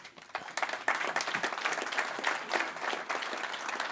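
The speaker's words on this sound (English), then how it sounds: "we can give them a round of applause" A conference audience applauds panel speakers as they take their seats. The clapping starts sparse, swells into a lively, crackling round of many hands and carries on steadily to the end.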